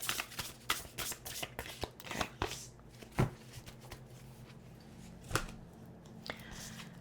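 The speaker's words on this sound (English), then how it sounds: "One more shuffle and I'll pull." A thick deck of tarot cards is shuffled in a series of soft riffling and tapping bursts, with scattered clicks and brief pauses, close and fairly quiet; a voice speaks briefly.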